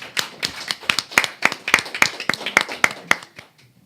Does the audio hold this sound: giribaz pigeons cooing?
no